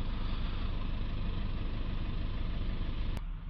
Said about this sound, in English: Okay, so we're now idling down around sort of 60 to 100, it's fluctuating a little bit.